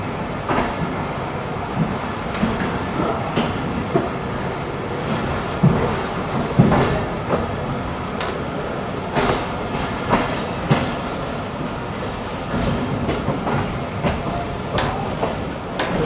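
A Pakistan Railways train moves off from Wazirabad railway station, with steady rumbling and rhythmic clickety-clack of wheels over rail joints, heard loud and close throughout.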